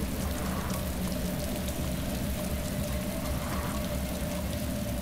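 Heavy rain falls steadily in the survival game DayZ, a dense, even wash of noise that holds at a constant level from start to finish, with no voices over it.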